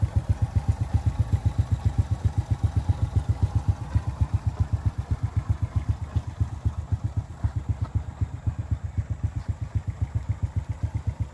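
A Honda Wave Alpha motorcycle with an original engine and black engine casing idles steadily, a quick, even putter of pulses heard from a little distance with no talk.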